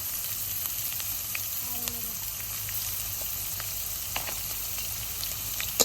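Chopped onions frying in oil in a kadai (wok) for a dried-fish dish: a steady, moderate sizzle with occasional faint pops and clicks, no voices.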